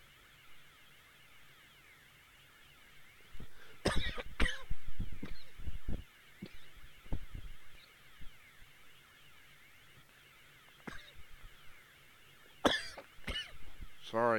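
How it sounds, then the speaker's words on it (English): A few sharp coughs burst out in two clusters, close to the microphone, separated by stretches of quiet background hum. "sorry, coughing spell."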